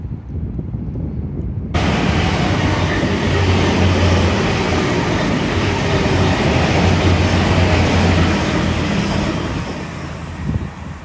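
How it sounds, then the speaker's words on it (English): A train rumbles past on the seafront line at Teignmouth on a frosty morning, a loud sustained roar that starts abruptly, holds steady with a low droning hum, and eases slightly at the end. "Well, at least I've got one train,"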